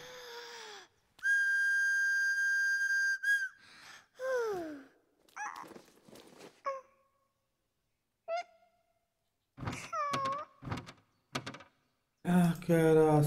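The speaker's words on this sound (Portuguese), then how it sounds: "Um apito. Apita aí!" In the game Catie in MeowmeowLand, a whistle blows one clear, steady note lasting about two seconds, followed by assorted cartoonish squeaks, pops and bleeps.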